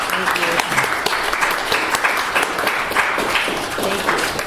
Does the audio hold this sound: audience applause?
yes